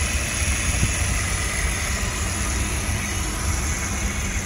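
The 1.2 engine of a 2014 Hyundai Grand i10 hatchback idles smoothly and evenly, a steady low hum with faint high whine held constant throughout, no talking over it.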